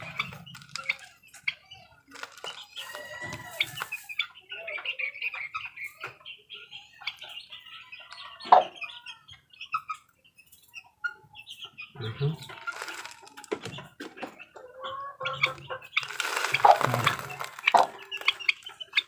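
A young bulik gamecock stag gives soft, intermittent clucks and chirps close by, with scattered rustling, scratching and wing shuffles in between.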